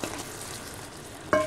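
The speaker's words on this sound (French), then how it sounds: "J'ajoute maintenant l'ail et le persil haché." Garlic and chopped parsley go into a frying minced-meat sauce, a steady close sizzle that jumps louder with a sharp hiss near the end.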